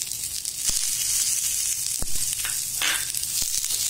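Curry leaves and onion roasting in a pan for a black pepper salan, a steady hissing sizzle close up with a few sharp scrapes and taps of a stirring spoon, and no talk.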